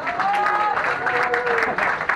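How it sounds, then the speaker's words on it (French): Audience applause at an international sport fishing competition in Cameroon, a short burst of crowd clapping with voices and cheers rising over it. "sous vos applaudissements"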